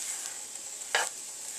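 Fried rice stirred around a hot frying pan, a low steady sizzle with one brief louder scrape-and-crackle burst as the rice is moved, close and alone.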